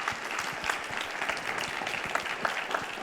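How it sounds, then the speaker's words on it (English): An audience at a panel discussion gives a round of applause, a dense steady patter of many hands clapping at moderate volume with no voices standing out. "A round of applause for everyone."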